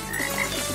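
A frog croak used as a mobile phone's ringtone, one brief, loud, rasping croak filling under a second with no talking.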